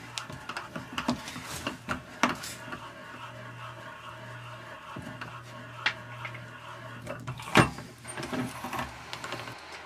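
A chain rivet tool flattens the rivets on a chainsaw chain, giving faint clicks and mechanical ticks over a low steady hum, with one louder sharp snap near the end, close by with no talking.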